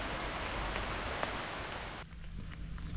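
Rain falling outdoors on the Rheinsteig hiking trail, a quiet continuous patter and hiss with scattered drips; the wash thins noticeably in the last second.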